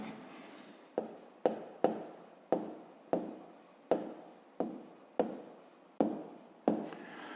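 A pen or pencil writes on paper while a fifth-grade math exercise is worked out, roughly a dozen crisp, close scratching strokes at a steady pace, each starting sharply and then trailing off.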